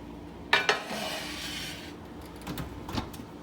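A peach cobbler dish goes into a home oven with two sharp metallic clinks of bakeware against the rack, followed by a soft rustle and a couple of quieter knocks as the door closes.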